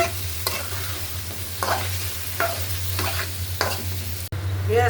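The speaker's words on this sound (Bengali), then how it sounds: "দিয়ে দিলাম আলু আলুগুলা তাহলে ওতে কিছুক্ষণ ভাজা নেই" Potatoes frying in a pan with spices during a home vegetable bhaji preparation, a constant sizzle with repeated scraping stirs of a spatula at regular intervals, close and loud.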